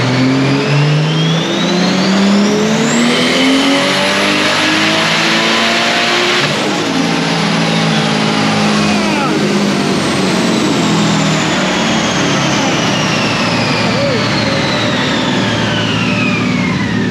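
A fully built turbocharged Toyota Supra on a dyno, its engine loud and close as it revs hard through a long sweeping pull, rising then falling with turbo whine, sustained for the whole stretch with no talk.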